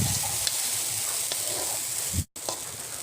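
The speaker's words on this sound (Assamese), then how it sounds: "এতিয়া মই বেটাৰখিনি ঢালি দিম" Potato cake batter poured into a hot, lightly oiled non-stick pan, giving a steady close hiss and sizzle with faint ticks, cut by a brief moment of silence near the end.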